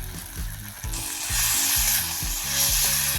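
Spices such as ground coriander, cumin, chili and turmeric frying in a pan for a country chicken curry, a steady bright sizzle with periodic scraping strokes of stirring, close and continuous without talk.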